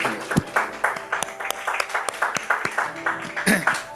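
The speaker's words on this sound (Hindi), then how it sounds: "एक बार जोर से अपने लिए ताली बजाइए।" Congregation at a Hindi Christian service clapping in distinct, fairly close claps that form an uneven rhythm, with faint voices mixed in among them.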